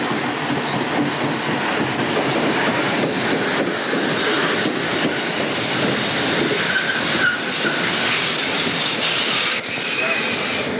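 An Erie Lackawanna electric multiple-unit commuter train rumbles eastbound past Basking Ridge close by, a steady loud roar with rhythmic wheel clatter and faint metallic squeal over the whole stretch.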